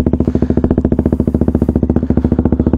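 A KTM 125 Duke motorcycle engine runs loud and close, its single-cylinder exhaust firing in a fast, even rapid pulsing throughout, with no talking over it.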